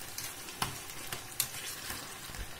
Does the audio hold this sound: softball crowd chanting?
no